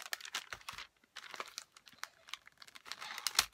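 Wrapping paper crinkles and rustles as a handmade gift parcel is unwrapped, in close, uneven bursts of crackling with brief pauses between handfuls.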